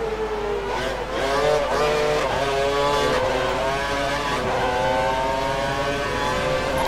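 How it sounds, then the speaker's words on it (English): A Formula 1 race car in a video game holds full revs, its steady high-pitched engine whine rising through gear changes with sharp shifts, loud and continuous throughout. "Full revs till the end of the race."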